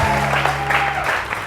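A studio audience on a live TV morning show applauds a guest, a short burst of clapping over a low background hum.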